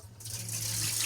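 A tap gushes water into a small sink in an Aquarius motorhome, the flow swelling from a thin trickle to a strong, steady hiss within about a second.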